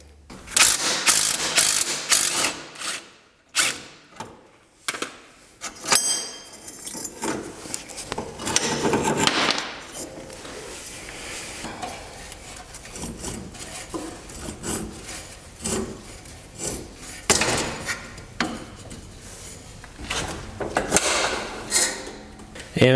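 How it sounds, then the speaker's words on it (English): Ratchet wrench clicking in quick bursts while a pulley is removed from a Craftsman 917 series lawn tractor, loud and close, with metallic rubbing and clanks between runs of ratcheting. "I'm just gonna remove that pulley because it does contact this bracket"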